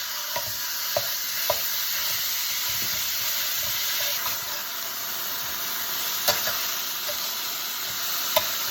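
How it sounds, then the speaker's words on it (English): Ground meat browning in oil in a hot pan for beef stroganoff gives a steady, loud sizzle throughout, with occasional sharp ticks and pops from the spatter and no talking. "Let's put another tablespoon or so of oil and brown your ground meat."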